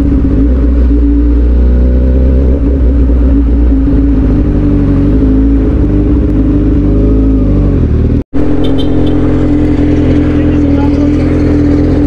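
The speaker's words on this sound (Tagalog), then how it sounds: "So yun lang, may traffic dito sa expressway." Car driving along a busy expressway in traffic near Batangas, with a steady low engine and road rumble throughout, a brief dropout near the end, then the drive resumes.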